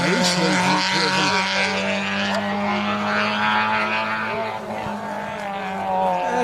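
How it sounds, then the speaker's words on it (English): A rally car at full effort on a special stage of Rally Wervik roars loud and sustained as it approaches a square right turn, its engine note steady with slight fluctuations. "And a car on a bit of a mission coming down towards that square right"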